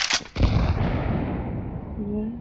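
A Negev machine gun fires in a Counter-Strike 2 match, a sharp close burst followed by a booming report that rings and decays, with a faint tonal sound near the end.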